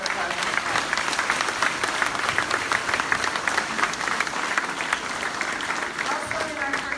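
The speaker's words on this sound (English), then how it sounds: "let's give all of these people a round of applause" Steady applause from an assembled crowd at an elementary school groundbreaking ceremony, continuous clapping from many hands holding at an even level throughout, heard from within the audience.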